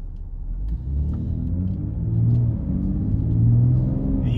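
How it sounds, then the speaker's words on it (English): Low, steady rumble of a BMW exhaust idling in efficient mode, deep and throbbing, swelling slightly a couple of times without revving hard. "The exhaust note that you're hearing right now is with the car in the efficient mode"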